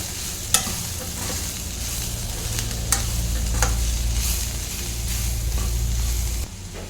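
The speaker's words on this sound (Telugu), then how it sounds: "వీటన్నిటిని మళ్ళీ ఒకసారి కలిపేసుకొని ఇంకొక ఫైవ్ మినిట్స్ ఫ్రై చేసేసుకోవాలి" Ivy gourd frying with coriander powder in a pan gives a continuous loud sizzle, with a few crisp scrapes of a spoon stirring through it, close up and without talk.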